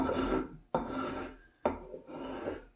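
An old restored block plane shaves fine cuts from wood in three long, smooth rasping strokes, each starting with a sharp bite and held steady at close range, with no voices.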